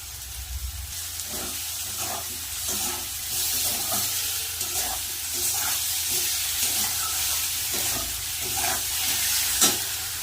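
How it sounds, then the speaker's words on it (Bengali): Spice paste for a fish curry cooking down in a pan, with a continuous loud hiss and sizzle and soft, regular scraping from stirring throughout. "ভালো করে মশলাটা কষিয়ে নেব"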